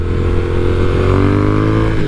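Triumph Speed Twin motorcycle engine heard while riding, a loud, steady droning rumble with rising pitch as it pulls, close and continuous with no talk.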